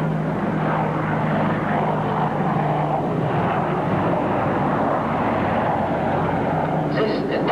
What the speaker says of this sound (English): Arrivant maintenant à la verticale du terrain, le Ah-64 Apache, hélicoptère d'attaque avancé, produit par la maison Hughes des États-Unis d'Amérique